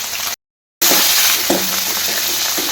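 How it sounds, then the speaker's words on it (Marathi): Curry leaves, mustard seeds, cumin, ginger-garlic paste, chopped green chillies and coriander fry in hot oil with a loud, close, continuous sizzle and a few stirring scrapes, interrupted by a brief moment of total silence. "हे सगळं परतवून घ्यायचं."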